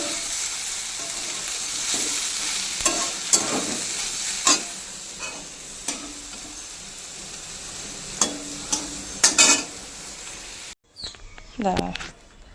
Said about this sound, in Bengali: দেখো পকোড়া ভেজে নিচ্ছি আমাদের জন্য